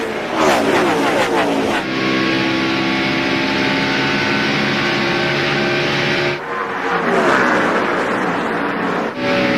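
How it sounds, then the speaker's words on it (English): NASCAR Winston Cup stock cars racing at the 2002 UAW-GM Quality 500, a loud continuous roar of engines as the pack passes close, with rising and falling pitch as cars sweep by in two waves. "Rusty Wallace, Jeff Burton, Mark Martin, all racing for that spot"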